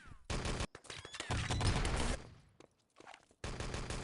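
Gunfire in the video game Enemy Territory during a competitive match, loud rapid bursts of shots in several dense volleys separated by short pauses.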